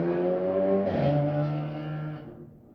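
A car drives by outside, its engine drone rising to a peak and then fading away as it passes, heard alone without talk.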